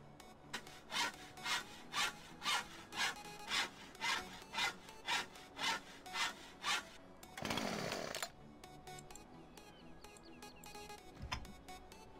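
Rhythmic back-and-forth sawing through a tree in Landwirtschafts-Simulator 17, about a dozen strokes, then a rushing crackle as the tree falls, followed by quieter scattered thuds.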